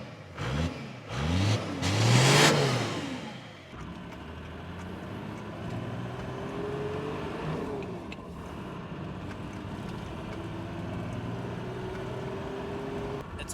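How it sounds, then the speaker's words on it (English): A Toyota Land Cruiser engine with its stock exhaust revs loudly a few times in quick bursts, then settles into a steady, lower rumbling idle that drones on with slight swells. "let's hear what the old stock exhaust used to sound like."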